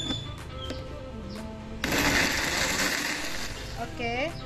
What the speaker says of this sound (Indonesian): Nih, kita blender lagi ya.